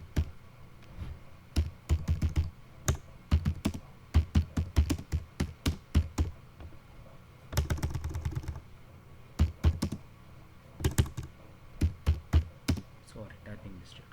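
Keys clatter on a computer keyboard during Python text editor coding, coming in bursts of quick taps separated by short pauses, close and moderately loud.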